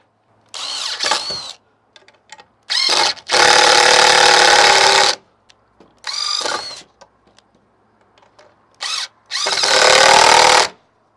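A cordless power drill driving screws into the top of a DIY greenhouse frame, loud close-up bursts of whirring that start and stop, the longer runs lasting a second or two, with quiet clicks and handling in the pauses.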